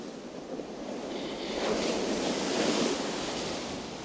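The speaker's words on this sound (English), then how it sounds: "That westerly wind is freezing, but it'll help me to cast out." Cold westerly wind gusts across an open beach, a broad rushing roar that swells midway and mixes with the wash of surf, close and steady with no voices.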